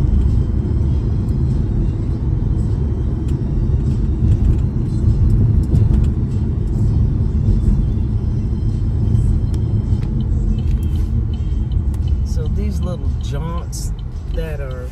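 Cars drive past on a road in town in Texas, heard as continuous low road rumble and engine noise from inside a vehicle, steady and fairly loud throughout.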